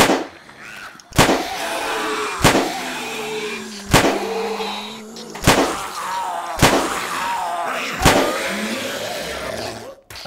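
Gunfire in the survival horror game 7 Days to Die: about seven loud, sharp shots spaced roughly a second or more apart, each a sudden broadband crack over a steady low game ambience.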